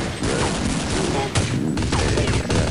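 Counter-Strike gunfire: dense, rapid bursts of automatic shots close by, almost continuous across the span, with a brief shout mixed in.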